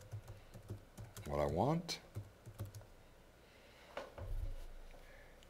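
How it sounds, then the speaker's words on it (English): Keystrokes on a computer keyboard while entering crawl text in ticker software, a run of light clicks under a man's speech, then a few more taps near the end. "I just type out"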